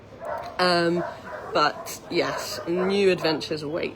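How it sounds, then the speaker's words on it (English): A collie barks at other dogs outside, several short yaps and whimpering barks in the background while a person talks over them. "You can probably hear her barking at the other dogs outside."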